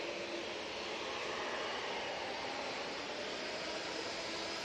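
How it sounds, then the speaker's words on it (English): A Boeing 787 Dreamliner jet airliner at Manchester Airport produces a steady, broad engine roar, faint and distant, holding constant with no talk. "And here you go, the 2 Dreamliner."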